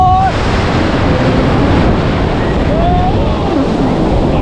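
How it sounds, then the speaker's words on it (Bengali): Sea waves at Puri beach roll and break in a steady, loud broadband wash, with wind buffeting the microphone and faint distant voices calling out over the surf. "ওই দেখুন একটা ঢেউ"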